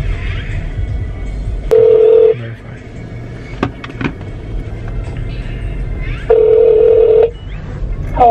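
A phone places a call: quick keypad beeps, then two long, loud ringback tones separated by several seconds, over a low background rumble.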